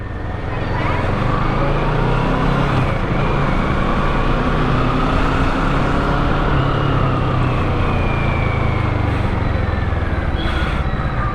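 A 650cc motorcycle ridden through city traffic, its engine drone and wind roar loud and constant, with surrounding road noise and passing vehicles blended in throughout.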